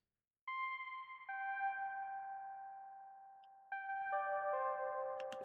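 Soft synthesizer notes ring out one after another, each long tone sustaining and slowly fading with an echoing tail, quiet and spacious.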